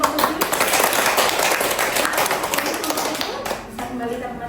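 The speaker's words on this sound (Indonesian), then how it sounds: "kita beri aplaus untuk kelompok 7" Applause for a student group in a university classroom, a dense steady wash of many hands clapping close by for about four seconds before thinning out at the end.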